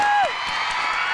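Studio audience on a Thai dating game show cheers and applauds loudly, a dense steady roar of crowd noise following a brief tone at the start.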